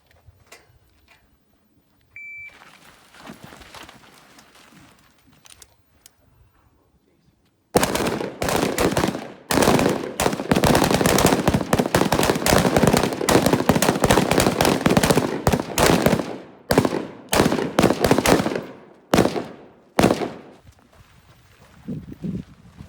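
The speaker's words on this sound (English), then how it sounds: "We're about to shoot a qual now." Rapid carbine gunfire during a shooting qualification on a range, a dense, loud run of overlapping shots after a quieter stretch with faint talk, then a few spaced final shots trailing off.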